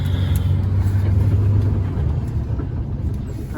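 A loaded Mercedes truck hauling slabs drives steadily along a road on a rainy day, its low engine rumble loud and close from inside the cab, holding a sustained droning tone that eases slightly toward the end.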